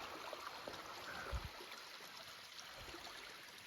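A woodland creek flows with a faint, steady rush of water, heard at a distance, with a single soft thump partway through.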